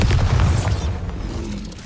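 A Bombarda spell explodes in Hogwarts Legacy with one loud, deep boom that rolls and fades over about a second, heard close with no speech over it.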